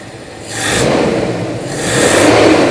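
A Toyota Kijang engine revs twice through its exhaust, two loud throaty bursts rising and falling close by with no talking.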